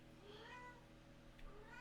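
A pet cat meowing indoors, a couple of faint, short rising meows set over a quiet, humming background.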